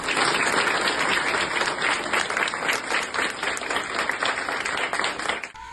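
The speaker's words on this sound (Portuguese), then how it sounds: "os funcionários e os familiares aplaudiram a jovem pela recuperação" Hospital staff and family members applauding a young woman's recovery, a sustained, full burst of clapping from a group, steady and fairly loud before cutting off abruptly at the end.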